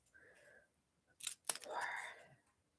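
Scissors snipping through material in a quiet room during a crafting live stream, a few sharp close cuts clustered together, with brief soft murmuring beforehand.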